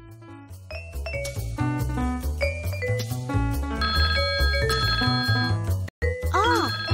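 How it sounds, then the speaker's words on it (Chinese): A telephone rings with a musical ringtone, a busy series of bright chiming tones over a steady low backing, briefly cutting out near the end before a final rising-falling melodic jingle. "是孙空空在墨西哥给我打电话回来了。"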